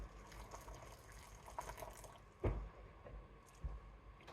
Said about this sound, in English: So I'm going to put some hot water.